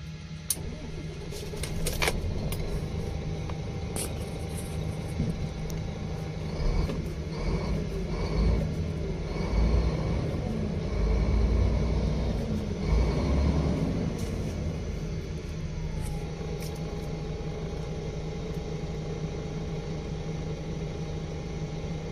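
A car engine being started again during a starting and charging system check, a low cranking rumble that catches and settles into a steady idle hum, close and fairly loud, with clicks at the start.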